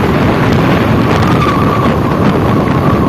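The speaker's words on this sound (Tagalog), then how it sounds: "Lakas ang hangin guys, lakas ang hangin dito." Strong wind buffets the microphone in a loud, constant rumbling roar that never lets up, on the Real–Infanta road.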